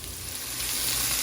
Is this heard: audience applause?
no